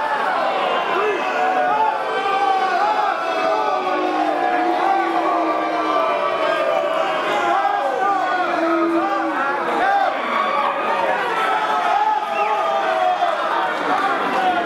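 Fight crowd at the Serrano vs Uche bout roars and boos after a low blow, a dense continuous mass of voices with shouts and whoops, loud and sustained throughout.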